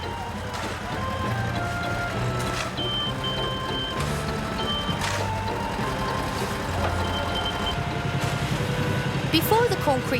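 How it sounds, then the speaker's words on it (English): A concrete depth measuring stick beeps repeatedly at a construction site during a floor pour, steady high tones recurring over continuous truck engine rumble and site noise. "That beeping sound you hear is from the measuring stick."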